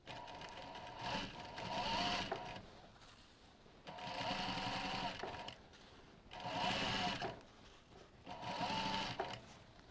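A domestic sewing machine set to its longest stitch runs through fabric for a rucksack, in four steady whirring bursts separated by short pauses, close and fairly loud.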